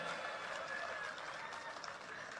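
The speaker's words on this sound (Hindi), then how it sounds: "कमाल है, तालियां तो बजनी चाहिए भाई," Audience applause at a political speech, a brief steady burst of clapping from a crowd.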